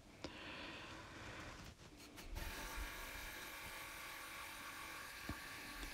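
A power driver buzzes steadily as it drives a fastener down into a wooden deck post, a continuous close motor whine that shifts pitch midway as the screw bites.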